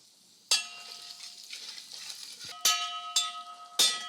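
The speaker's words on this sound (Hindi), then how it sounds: "इसी में थोड़ा जीरा इसी तेल में भुन जाएगा" Cumin seeds fry in oil with potatoes in a pan, a soft steady sizzle broken by four ringing metallic clinks as a spoon strikes the pan's edge.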